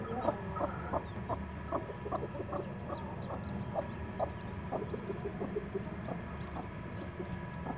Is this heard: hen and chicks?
yes